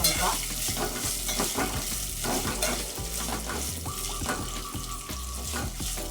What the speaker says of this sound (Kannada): ಬೆಳ್ಳುಳ್ಳಿ ಹಾಕ್ಕೊತೀನಿ ಮತ್ತು ಶುಂಠಿ ಹಾಕೋತೀನಿ ಈಗ ಸಿಮ್ಮಲ್ಲೇನೆ ಫ್ರೈ ಮಾಡ್ತೀನಿ